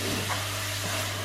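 Pork sizzles in a hot pan with garlic and onion, a steady broadband frying hiss that runs continuously and fairly loud, with a low constant hum underneath and no voices.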